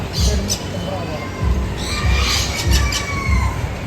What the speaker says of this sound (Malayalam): പ്രാവ്.